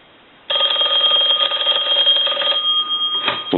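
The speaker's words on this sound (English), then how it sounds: "I'm going to go ahead and ring the telephone." A Snoopy and Woodstock model telephone's bell rings in one long continuous burst, bright and loud, then stops, followed by a brief clatter as the handset is lifted.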